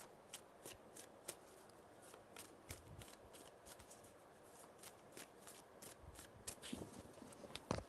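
A deck of tarot cards is shuffled by hand, close and quiet: repeated soft riffling flicks and papery taps in an uneven rhythm, ending in a slightly louder burst of shuffling.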